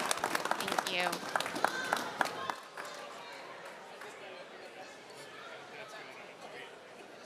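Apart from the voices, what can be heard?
audience applause for conference panelists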